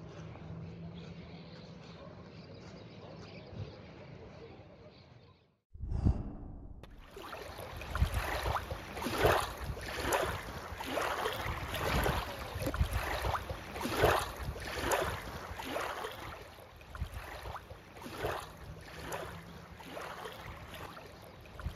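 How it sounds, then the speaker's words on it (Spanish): The Dacca stream runs with a steady wash of flowing water, broadband and fairly loud, with rhythmic surges and a faint tonal hum; a quieter stretch precedes a brief dropout before the stream noise swells back in. "¿Escuchas el ruido del agua?"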